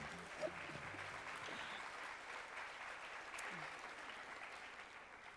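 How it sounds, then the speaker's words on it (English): Conference audience applauding a guest lecturer, a steady wash of clapping at moderate distance that holds evenly throughout without voices. "Thank you for your generous applause."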